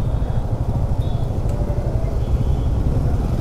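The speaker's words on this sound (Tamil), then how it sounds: "பயங்கர டிராஃபிக்கு." Heavy Sunday road traffic with many bikers and tourists on the way to Valparai: a dense, continuous drone of car and motorcycle engines, steady and close, with no distinct passing vehicle standing out.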